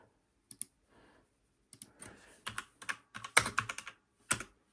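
Keys clack on a mechanical keyboard lacking a Windows lock key, sparse single presses at first, then a quicker irregular burst of sharp clicks close to the mic.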